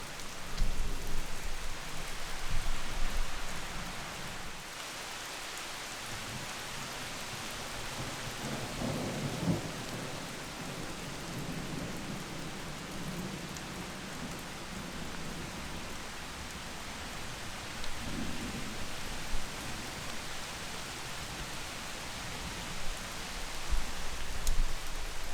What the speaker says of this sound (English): Thunder, lightning, heavy rains.